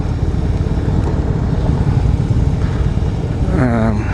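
Harley-Davidson Breakout motorcycle engine rumbling steadily and loudly throughout a ride in Fayetteville, Arkansas, a continuous close-up drone with wind noise over it.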